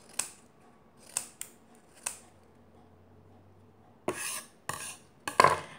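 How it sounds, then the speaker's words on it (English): Scissors snip off excess paper from an eight-pointed transforming origami ninja star: a few crisp, close cuts, first spaced out and then a quicker cluster near the end, with quiet gaps between. "And I'm just cutting off any extra."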